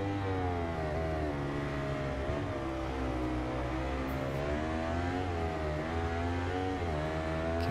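Yamaha R1M superbike engine in the Ride 2 racing game, a loud continuous high-revving whine with rising and falling pitch through gear changes, sustained throughout with no talk.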